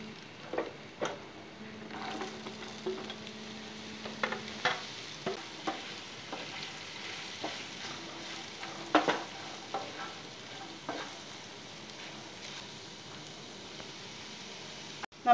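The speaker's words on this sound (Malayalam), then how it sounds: "ഇത് നന്നായിട്ടൊന്ന് ഇളക്കി യോജിപ്പിച്ച ശേഷം നമുക്ക് ക്യാരറ്റ് ഇതിലേക്ക് ചേർത്ത് കൊടുക്കാം." Carrots being stirred into a mango carrot pickle in a pan, soft continuous sizzling with regular clicks and scrapes of a spoon, fairly quiet and unbroken by talk.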